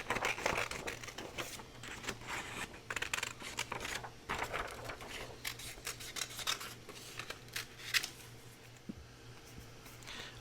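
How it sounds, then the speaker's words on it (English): Scissors snip in short, close, quiet cuts while fussy cutting around a rose printed on paper, with light paper rustling between the snips and no talking. "I'm going to cut this out. And I will just fussy cut around that rose there"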